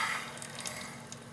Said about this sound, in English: Let's see if it flushes.